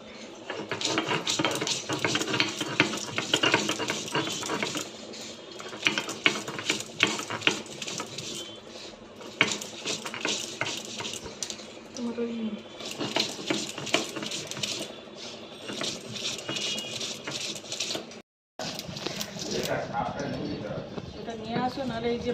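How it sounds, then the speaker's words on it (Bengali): Ajwain leaves ground by hand on a stone grinding slab: steady rhythmic scraping and grinding strokes, close and fairly loud, with talking over much of it and a brief pause near the end. "পাতাটাকে বেটে নেব"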